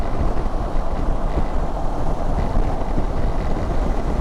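Honda NX500 2024 motorcycle riding at speed just over 4,000 RPM, a steady engine drone heavily masked by loud wind rush against the rider's helmet, continuous throughout.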